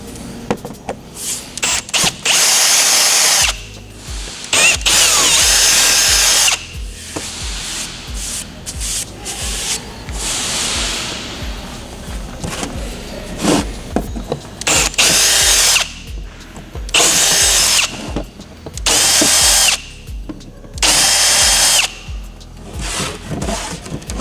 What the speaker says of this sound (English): we're going to go ahead and drill out the proper sizes for each bolt